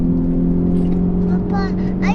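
A car called the FL5 drives slowly, its engine a steady, close, low drone with a constant hum throughout, while voices, including a child's, talk briefly over it near the end.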